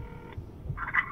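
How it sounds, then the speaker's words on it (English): A telephone call is dialed and connects, with short electronic line tones and a brief tonal burst near the end over a low hum, fairly quiet and with no talk. "We're going to see if we can get Kevin on the phone."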